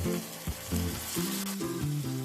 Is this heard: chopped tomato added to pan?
yes